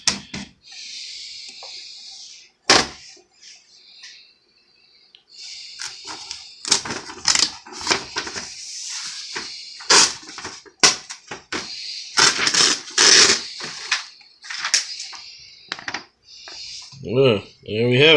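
A Commodore MPS-1200 dot matrix printer prints in loud rapid bursts of buzzing head passes, separated by short pauses and paper-feed clunks, with a voice speaking briefly near the end.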